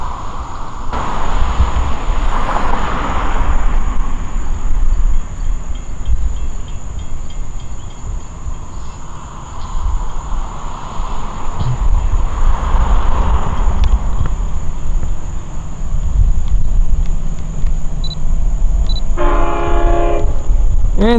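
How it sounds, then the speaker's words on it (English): A Long Island Rail Road train with DM30AC diesel locomotives, one leading and one pushing eight cars, rumbles past loudly with a low engine drone, sounding its horn in long blasts and then a short burst near the end. "the equipment on this train today is DM30ACs, 512 leading, 502 pushing with 8 cars"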